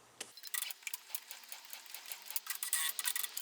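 An embroidery machine tacks down a tab holding a metal D-ring on an in-the-hoop 3D flower zipper pouch, giving a quiet run of quick, even mechanical stitch beats.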